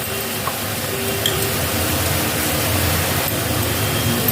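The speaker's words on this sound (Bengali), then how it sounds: "ফুটে উঠেছে দেখুন টকবক করে" Paneer cashew gravy simmering in a pan, a steady close bubbling and soft sizzling hiss that stays even throughout with no speech.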